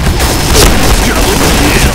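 A loud grenade blast erupts in a competitive online shooter match, a booming burst amid dense gunfire and game clatter over about two seconds.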